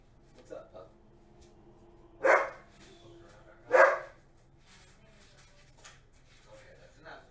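A dog barks a few times indoors, two loud close woofs stand out among softer yips, with quiet background murmur between.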